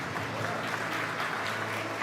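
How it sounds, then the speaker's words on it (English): Audience clapping at a women's business awards event in Mumbai, a steady dense patter of many hands filling the hall for the full two seconds with no break. "please feel free to keep the claps coming"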